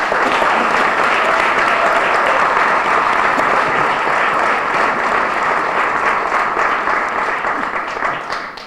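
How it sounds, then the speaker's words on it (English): An audience at the City of Lawrence 2020 inauguration ceremony bursts into loud, sustained applause that holds steady for several seconds and then begins to taper off at the end. "give ourselves a round of applause"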